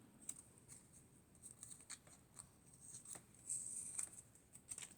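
Scissors cut out paper for a handmade holiday card in a series of quiet, close snipping and rustling strokes, very faint and irregular with short pauses between cuts.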